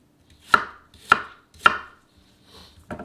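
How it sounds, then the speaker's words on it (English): Three crisp knife chops through an apple on a cutting board, evenly spaced and close, followed by a softer cut and one more at the end, with no voices. "Now we're just going to give our apple a little chop here."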